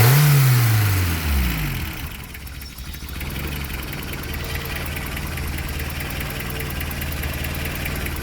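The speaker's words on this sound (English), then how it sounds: "That's a pretty decent high idle" A 1990 Toyota Hilux pickup engine settles from a revving, falling whine into a steady high idle, holding an even rough drone close by with no talk over it.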